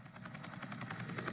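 A helicopter in the video game Entry Point, heard as a faint but steady rhythmic rotor chop with a low engine drone beneath it, no talking.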